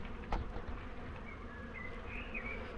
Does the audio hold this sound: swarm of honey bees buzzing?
yes